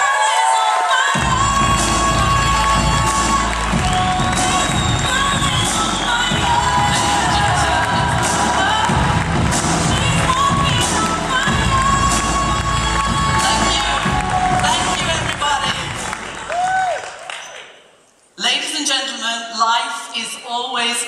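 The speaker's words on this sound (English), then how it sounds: "So please give a big round of applause to one of the most powerful women I know, Miss Sally Forrest, everyone." A large keynote audience bursts into loud cheering, whooping and shouting, with music blaring over the crowd, then the sound cuts off briefly before the stage audio resumes.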